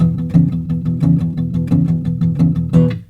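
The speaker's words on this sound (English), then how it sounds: "And then you can play it with a different rhythm for rock type blues." Close, driving guitar strums a straight, even rock-blues rhythm of muted low chords, steady and unbroken, with a brighter accent near the end.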